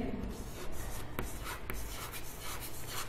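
Pen scratching out figures by hand during an accounting lesson, with close, continuous scribbling strokes and a couple of sharp taps, no voices.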